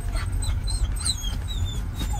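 Pet dogs whine and whimper in the back seat of a Tesla Model Y, with a steady run of high, thin cries over a low car-interior rumble, close and without talk.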